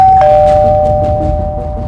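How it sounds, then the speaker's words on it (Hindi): A doorbell chimes once, a clear ringing tone that lingers and slowly fades in a quiet room. "तभी डोरबेल बज गई"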